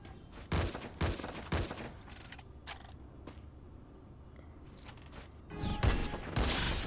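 Bursts of rapid automatic gunfire ring out in a shooting video game, loud volleys at the start and again near the end, with quieter mechanical clicks and creaks between them.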